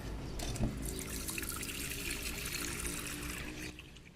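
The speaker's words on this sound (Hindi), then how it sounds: "चिड़ियाओं वाले बर्तन में पानी भर के मैं इसे वापस रखने जा रही हूँ" Water poured from a vessel into a bird water bowl on a rooftop in the morning, a steady close splashing trickle that lasts throughout with no talk.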